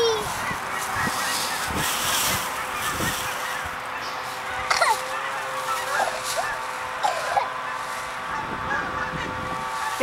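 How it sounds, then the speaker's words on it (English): Several geese honk repeatedly outdoors, some calls close and loud, others farther off, over a steady background hum and occasional voices. "Here, Judson, you see the geese?"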